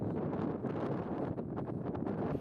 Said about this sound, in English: It's a bit windy this morning